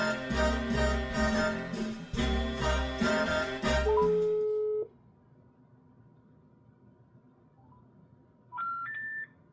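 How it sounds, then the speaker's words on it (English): Phone dialing tones and beeps from a call to a Windows activation hotline, a run of rhythmic keypad and line tones followed by steady sustained tones and a short rising beep pattern near the end. "Could this possibly be because I'm dialing from a Russian number?"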